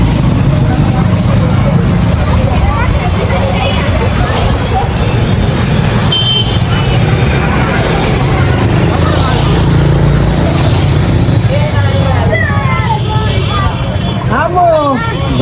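A large Jamaat-e-Islami motorcycle rally passes by, a dense continuous drone of many engines mixed with loud crowd chatter and people talking nearby.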